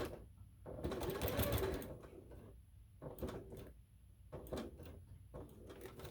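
A sewing machine stitches a spring table runner corner in short bursts of rapid whirring, stopping and starting several times, close and moderately quiet.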